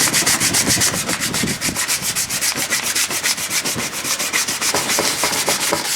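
Motorcycle part for a Suzuki Bandit project scuffed by hand with a scuff pad: loud, close, fast rhythmic rubbing strokes repeating evenly throughout, with no talk.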